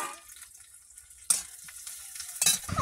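Green chillies hit hot oil in a kadai already holding chopped onion, dried red chilli and garlic, with a sudden loud burst of sizzling partway through and a second sharp spike near the end.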